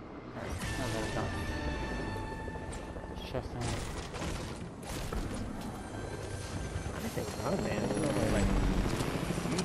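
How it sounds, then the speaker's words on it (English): Helicopter rotor in a squad-based shooter video game, a steady droning whir running throughout, mixed with gunfire bursts and booms while players talk over it. "They are hopping on their helicopter."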